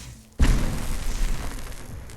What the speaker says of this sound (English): Singularity, which will damage enemies over time and then explode for one last final bit of damage